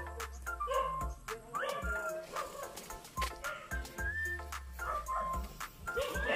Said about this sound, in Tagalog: At madami ding aso.